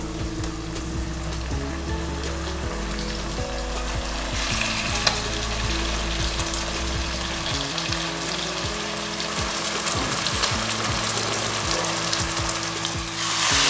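Eggplant fries in a hot pan for a sutta kathirikai gravy and is stirred repeatedly, giving a continuous loud sizzle with regular scraping strokes and low thumps of the spoon against the pan.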